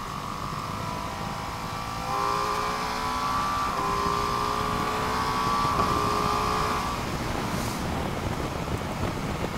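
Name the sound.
motorcycle engine accelerating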